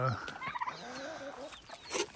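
Chickens on a homestead with a rooster among them cluck and squawk briefly, close and fairly quiet, in short uneven bursts.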